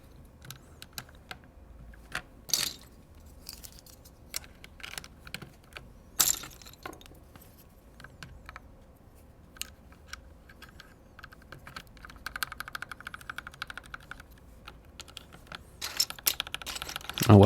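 Typing on a KC84 mechanical keyboard, irregular clacky keystrokes close to the mic, sparse at first and then quicker and denser toward the end, with faint talking underneath.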